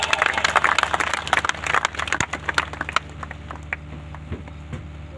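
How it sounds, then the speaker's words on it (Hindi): Lively applause from a gathering at a cow shelter donation ceremony, dense clapping at first that thins into scattered claps and fades over several seconds. "जोरदार तालियां"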